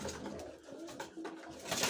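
Racing pigeons coo in a loft, a soft, steady murmur of overlapping calls from several birds close by, with no speech.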